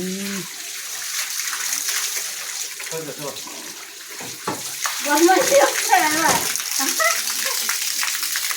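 Water splashes and pours over a car as two people wash it at midday, a continuous close wash of spray and trickling broken by sloshes, with people talking over it.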